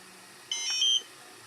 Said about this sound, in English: all we need to do is power on the drone like normal